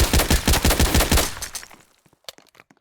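A Glock 17 pistol fires in the Roblox game, a rapid burst of loud, close synthetic shots in quick succession, then a few quieter clicks as the burst ends.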